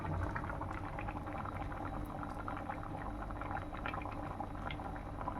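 Rice and lentils bubbling in pots on a stove, a steady dense simmer of small popping bubbles running unbroken and fairly quiet throughout.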